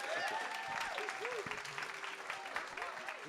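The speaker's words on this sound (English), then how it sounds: "Will you give these a massive round of applause?" A church congregation claps during a Sunday service, a moderate, continuous patter of applause from a crowd, with whoops and voices calling out over it.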